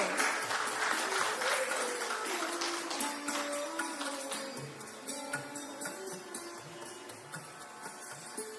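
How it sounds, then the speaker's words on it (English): Sustained applause from an audience at a conference and awards event, a steady dense clapping that fades slightly over the length with bursts of music-like tones beneath. "let's have a huge round of applause for the auspicious beginning"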